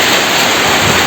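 Heavy afternoon rain pours down in a steady, dense, loud broadband roar with no breaks, close and continuous throughout.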